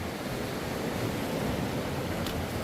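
Sea waves at Cornwallis beach, Auckland, New Zealand, a steady broadband wash of surf with wind rumble on the microphone, continuous and fairly even, no voices.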